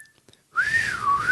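A person whistles a brief, rising-and-falling warble imitating the droid R2-D2 from Star Wars, a single clear whistle after a short quiet pause.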